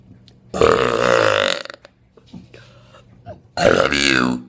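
Two long, loud burps from a woman, the first lasting about a second and the second coming near the end after a stretch of quieter sounds.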